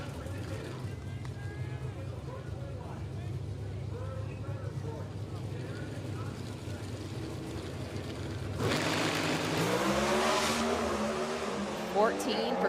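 Pro Stock drag race cars at Bradenton Motorsports Park roar off the line, a heavy engine rumble swelling loud and bright partway through, with commentators talking over the noise throughout.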